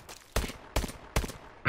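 Call of Duty Advanced Warfare gunfire in a competitive 2v2 Search and Destroy match: three evenly spaced, sharp single shots, then a fourth beginning at the very end, with quiet gaps between.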